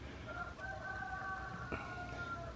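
A rooster crows once at a middle distance, its drawn-out call carrying over a quiet background with no one talking.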